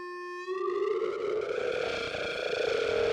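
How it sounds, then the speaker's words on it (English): A distorted generative feedback patch built in Ableton drones in a sustained, harmonically rich tone with a steady pitch. Gritty, buzzing overtones swell in after a brief quieter onset, with no voices. "A little bit too much distortion maybe."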